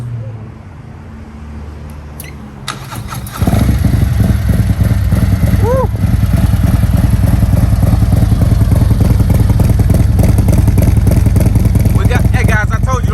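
A 2021 Harley-Davidson CVO motorcycle with a Stage II kit and full exhaust fires up after a few seconds of background noise and settles into a loud, steady, close-up idle with throttle blips, while a voice cheers over it.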